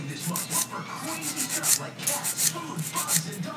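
Rapid back-and-forth scraping of a 180/100 grit nail file rubbing against a hard acrylic nail surface, close up, in quick rhythmic strokes with brief pauses.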